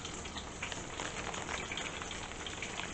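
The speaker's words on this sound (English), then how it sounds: "you can hear it sizzling" Steady crackling sizzle of bang bang shrimp frying in hot oil, a dense hiss with scattered pops, continuous and close, no voices.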